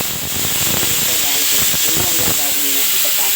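A pot of peanuts boils with a loud, steady hiss of escaping steam, close up, with soft bubbling and burbling underneath.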